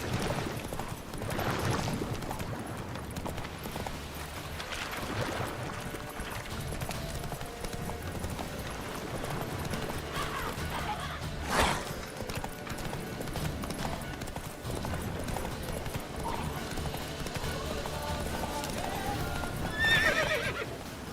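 Horse galloping in The Witcher 3, with steady clip-clop hoofbeats throughout, occasional neighs and whinnies, and brief bursts of talk over the top.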